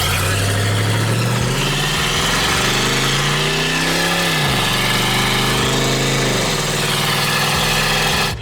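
A twin-turbo LS V8 in a Foxbody Mustang running loud and near, a rough heavy engine note that dips and climbs in pitch as it revs and settles, continuous and without talk.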